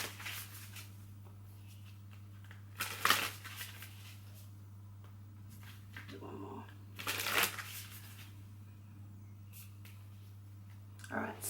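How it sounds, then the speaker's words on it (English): Tarot cards being shuffled in two brisk bursts, around a third and two thirds through, with soft handling rustles between, near and distinct over a steady low electrical hum, no talking. "2 more shuffles and then we'll pull"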